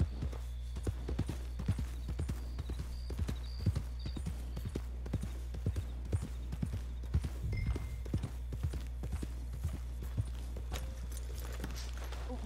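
Horse hooves clip-clop steadily in the video game Red Dead Redemption 2, an even walking rhythm of distinct, fairly close hoof strikes continuing for the whole stretch over a constant low background drone.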